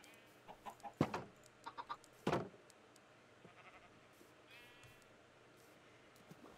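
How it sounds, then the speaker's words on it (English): Chicken clucking in the Minecraft video game, a handful of short faint clucks and squawks in quick bursts over a quiet background. "Chicken!"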